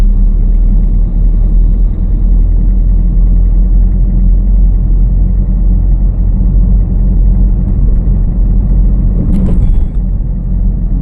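A car climbing a hill in third gear gives off a loud, steady engine drone with a deep rumble. It holds constant throughout, and a brief brighter rattle comes near the end.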